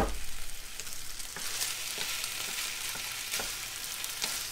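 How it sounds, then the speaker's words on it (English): Teriyaki chicken crackles in a frying pan as it is stirred, a steady close sizzle with several sharp scraping strokes spaced through it and no speech. "Stir that up nice."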